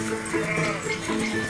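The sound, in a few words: Argentata dell'Etna goats bleating on Etna's slopes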